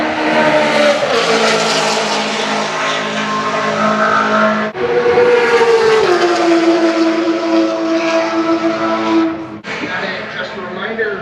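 A loud BMW M2 race car engine roars past on the Circuit of the Americas track, its pitch climbing and dropping through gear changes, with more cars following close behind.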